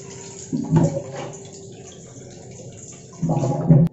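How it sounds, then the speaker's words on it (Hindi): Water pours into a thick bhindi sambar with dal in a pot, in two short, fairly loud splashing bursts separated by a quieter stretch. "सांभर हमारा काफ़ी थिक है हम इसमें एक कप पानी ऐड करेंगे"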